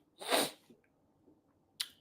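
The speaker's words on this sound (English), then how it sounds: "I got a sneeze that just will not come." A single forceful sneeze bursts out close and loud, followed by a short sharp sniff-like puff moments later, with no talking.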